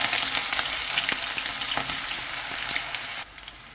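Ginger sizzling steadily in hot oil with mustard seeds and fenugreek for a Kerala beetroot pickle, a dense continuous frying crackle with occasional stirring scrapes, close and fairly loud, no voices.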